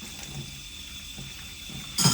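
Hot water runs steadily into a laundry room sink, a continuous close-up rushing splash that holds even throughout and swells louder at the very end.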